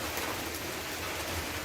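Heavy rain pours steadily in the Jamaican countryside, a dense, even hiss with no breaks and no voices.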